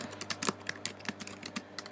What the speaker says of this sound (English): I click on create thread, and I just merely type